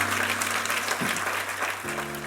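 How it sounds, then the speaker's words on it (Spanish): Sustained applause from a church congregation honoring the Lord, a dense steady wash of many hands clapping with an organ or keyboard chord held underneath. "le debes dar un aplauso al Señor por eso"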